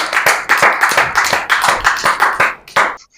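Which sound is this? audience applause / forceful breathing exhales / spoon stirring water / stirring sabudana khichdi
audience applause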